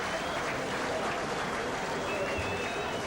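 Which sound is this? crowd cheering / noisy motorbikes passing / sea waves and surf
crowd cheering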